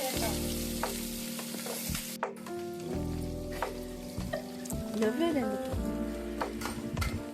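Green chilies and onions frying with whole spices for Andhra-style country chicken dum biryani: a loud, busy sizzle with stirring scrapes and clinks of a utensil, while a voice talks over the cooking.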